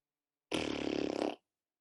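A storyteller vocally imitates a fart: one sustained, buzzing, rasping blow lasting under a second, loud and close, alone with no other sounds around it.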